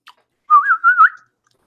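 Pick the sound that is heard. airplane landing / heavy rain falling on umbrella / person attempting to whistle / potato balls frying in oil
person attempting to whistle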